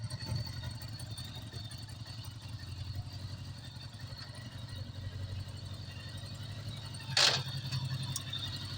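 A 1980 Honda GoldWing motorcycle with an 1100 engine idles steadily, a low, even burbling throb that holds throughout, with a brief sharp click near the end.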